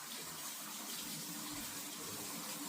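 Hands washed under a running kitchen tap before kneading sourdough dough: a steady, faint, hissing stream of water spattering continuously throughout, with no talk.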